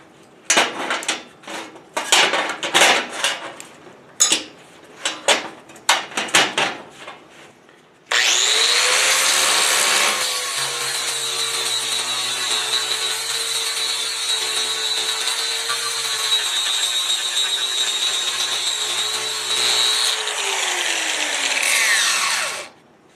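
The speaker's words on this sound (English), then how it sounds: "Now I'm using a sanding disc that's kind of worn out to start with." A worn sanding disc on an angle grinder against a rusty railroad track: a burst of short rough scraping strokes, then a long loud continuous high whine of grinding that holds steady for about fifteen seconds before stopping.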